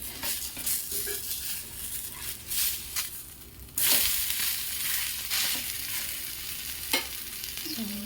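A rice-flour dosa fries in oil on a pan, giving a loud, steady sizzle and crackle with occasional scraping stirs, a brief burst of hiss midway, and no talking.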